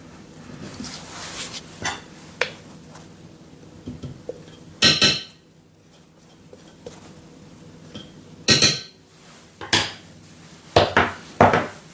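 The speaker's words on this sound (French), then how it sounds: "Je vais nettoyer un petit peu les parois du bol." A utensil scrapes around the sides of a mixing bowl in a home kitchen, with quiet scrapes and a few sharp clinks of metal on the bowl coming in separate bursts, no talking.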